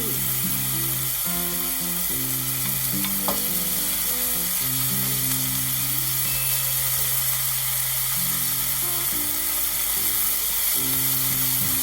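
Ingredients stir-frying in a pan until golden, a loud continuous sizzle with steady stirring scrapes throughout and no talking.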